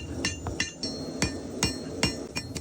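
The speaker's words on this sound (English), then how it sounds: "I begin by forging the blade" Hammer striking a rail spike knife blade on an anvil dating to about 1865, about eight sharp ringing blows in an uneven forging rhythm, close and loud.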